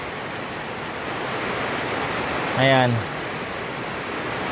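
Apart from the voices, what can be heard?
heavy rain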